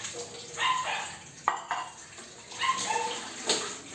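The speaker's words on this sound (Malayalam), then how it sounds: "അമ്മ പാത്രം കഴുകുന്ന കണ്ടിട്ട് ഒത്തിരി നാളായില്ലേ." Dishes being washed under running water at a home sink, with intermittent splashing and clinking in short bursts, fairly faint and close.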